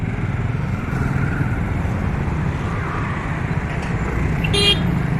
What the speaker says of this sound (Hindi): ट्रैफिक जाम है पूरा चारों तरफ, देखिए ना